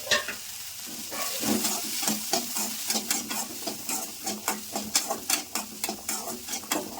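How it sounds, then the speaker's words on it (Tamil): Cut coconut being sautéed in a pan, with a steady sizzle and a regular series of scraping stirs and spatula clicks against the pan, close and fairly loud. "கட் பண்ண தேங்காய் நீங்கள் சிரமதாக இருந்தாலும் அளவுக்கு கைப்படி அளவுக்கு எடுத்துக்கோங்க போட்டு இதையும் வதக்கிக்கோங்க"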